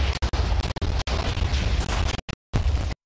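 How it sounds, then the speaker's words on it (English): Explosions from a TNT trap in Minecraft Java Edition burst in quick succession, loud and crackling with a few sharp pops and short dropouts near the end. "this explodes from the inside out, so there's no way for the water to prevent any explosion"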